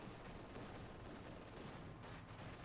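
Machine gun fire in the World War II strategy game Company of Heroes 2, a dense, continuous rattle of shots and battle noise that stays even and loud throughout.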